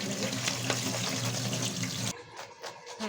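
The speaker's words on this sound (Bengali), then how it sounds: "মাছগুলো আমার এখন ধুয়ে নিতে হবে ভালো করে।" Small chanda fish being washed under running water: a steady close rush of tap water, then splashing and sloshing as the flow stops, fairly quiet, with no talking.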